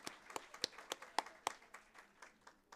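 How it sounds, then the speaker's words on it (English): Scattered claps from a graduation ceremony audience at a Canine Companions event, individual sharp hand claps spaced irregularly and fairly faint, a sparse smattering rather than full applause. "that deserves applause"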